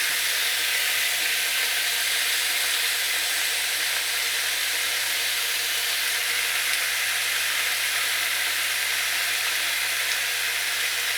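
Soy sauce sizzling in a pan of stir-fried Thai-style vegetables, a steady, even hiss of frying that holds unchanged for several seconds with no talk.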